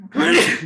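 A single loud, close sneeze bursts out sharply and fades within a moment, heard alone without talk over it.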